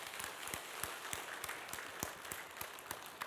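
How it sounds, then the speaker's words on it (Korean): A church congregation claps in encouragement for a grieving family during a Sunday service, soft distant applause with individual claps standing out irregularly over a continuous patter. "우리 위로와 또 힘을 내라고 격려의 박수 해주시기 바랍니다."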